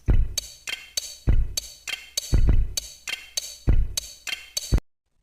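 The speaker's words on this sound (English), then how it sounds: "Let's add a compressor and some reverb, and here's our drum kit." Drum beat built from Lego brick clicks and clacks, processed with compression and reverb: a repeating groove of punchy low thumps and bright snappy ticks in a steady rhythm, loud and alone, ending abruptly.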